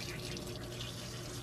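Tap water runs steadily and close while a rescued kitten is washed in a sink, a continuous splashing hiss with no breaks.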